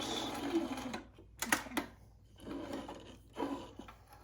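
Sewing machine stitching back and forth on fabric for a face mask, two short whirring runs separated by brief pauses, close and moderately loud.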